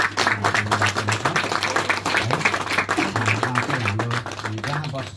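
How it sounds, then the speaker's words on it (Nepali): A church congregation at a Christmas service in Tikhedewa, Nepal claps in thanks, a moderate rhythmic patter of hands with voices talking and a sustained tone running underneath. "अनि भाइलाई हामी ताली बजाएर धन्यवाद दिन्छौँ"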